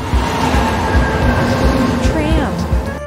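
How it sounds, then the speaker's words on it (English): A tram rolls past with steady rumbling, rail clatter and a rising metallic squeal near the end, fairly loud and close. "Tram."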